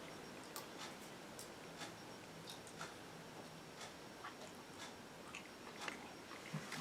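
Someone takes small bites of hot pressure-cooked chicken and vegetables, with faint, sporadic chewing and mouth clicks over a steady low background hiss and no talking.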